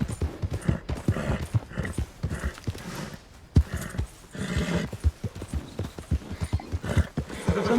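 Horse hooves clip-clopping in Red Dead Redemption 2, a quick steady gallop rhythm of sharp thuds close up, with a brief whinny and almost no talk.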